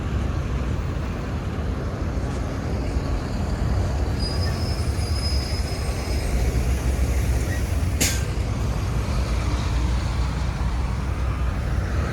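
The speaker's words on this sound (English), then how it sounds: "Yep, lots of traffic here on Highway 7." Steady, loud traffic roar along Highway 7 near Vaughan Metropolitan Centre station in Ontario, mixed with rail-like rumble and a brief high squeal near the end, continuous throughout with no talking.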